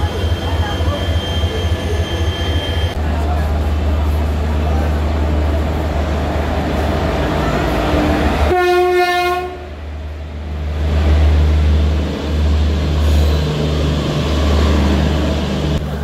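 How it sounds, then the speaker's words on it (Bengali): Shalimar–Puri express 18409 pulls into Santragachi station with a steady low rumble of wheels and carriages, broken near the middle by one loud, brief horn blast before the rolling noise carries on. "সেই ট্রেন কিনা মোটামুটি 10 মিনিট লেটে কিন্তু চলে এসছে।"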